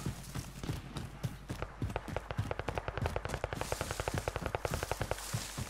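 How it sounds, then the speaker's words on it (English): Rapid automatic gunfire in a video game, fired at a blimp overhead, a fast steady stream of close, sharp shots running almost without pause for several seconds. "What are you shooting at?"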